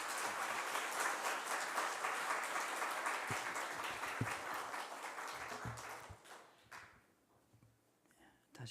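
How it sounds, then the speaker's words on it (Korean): A church congregation claps to welcome a pastor to the pulpit at a prayer seminar; the steady applause holds for several seconds, then tapers off and fades into quiet room sound with a few footsteps and knocks. "우리 하나님께 영광의 박수, 또 목사님 격려하는 박수 한번 하면서 모시도록 하겠습니다"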